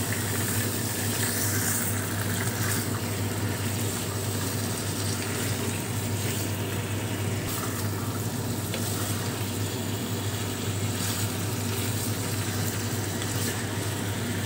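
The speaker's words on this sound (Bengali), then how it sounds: "এই চিকেনটা আমি ততক্ষণ ভাজবো যতক্ষণ না চিকেনের একটু রংটা চেঞ্জ হয়।" Chicken pieces frying in a pan for chicken korma give a constant, fairly loud sizzle over a low steady hum, unbroken from start to end.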